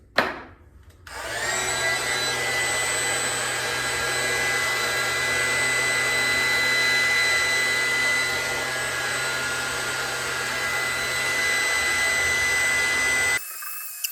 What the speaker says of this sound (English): This one does have a cord, but you need that much power for the vacuum.